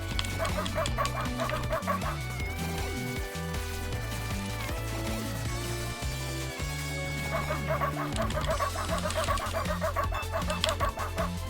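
A person mimics a dog barking in a string of yipping, yelping calls over busy game music and effects, repeated in bursts through the stretch.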